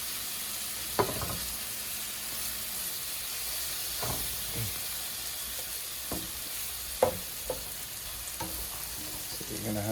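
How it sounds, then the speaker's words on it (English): Banana French toast sizzles steadily in an oiled pan, with several sharp clinks and scrapes of a utensil stirring or turning the slices. "gonna just go ahead and let that get a nice little fry in"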